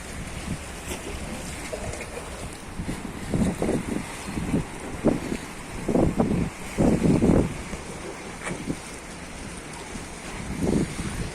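Stormy wind blowing outdoors beside the museum warship Gayret in İzmit, Kocaeli, a steady rushing roar with gusty bursts and low buffeting against the microphone, no one speaking.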